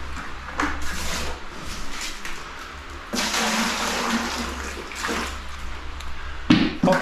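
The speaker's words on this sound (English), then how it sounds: "Pop some water in there." Water is poured into a bucket for mixing floor mortar, a close rushing splash that swells loudly midway and comes in several bursts separated by scraping and handling noises.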